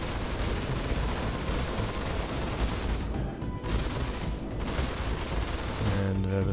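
Gatling gun fire in a video game, a dense continuous rattle of rapid shots that briefly pauses and resumes, loud and close, with a Dutch-speaking voice faintly beneath.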